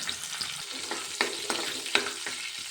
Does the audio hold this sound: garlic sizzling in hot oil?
yes